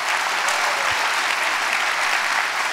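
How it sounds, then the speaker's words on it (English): A church congregation claps together in dense, steady applause with no talk over it, loud and close for the whole stretch. "Come on, clap your hands."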